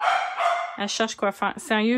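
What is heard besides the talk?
dog barking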